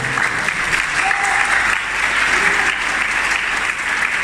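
A crowd at a church Christmas service applauds steadily and loudly, a dense wash of clapping that holds at an even level from start to finish.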